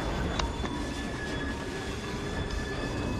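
Steady train rumble from Assassin's Creed Syndicate, the in-game locomotive running continuously with faint rail clatter and a few brief metallic squeals, loud and unbroken with no voices.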